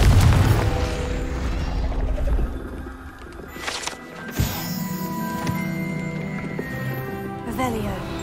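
A Confringo fire-blast spell in the game Hogwarts Legacy cracks out with a sharp, booming burst midway, then fades. Game voices and ambient sound surround it.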